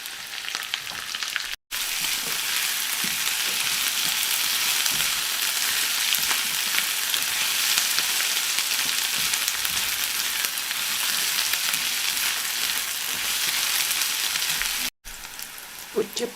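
Onion sizzles and fries steadily in a hot pan with garlic, a loud continuous crackling hiss broken by two brief gaps.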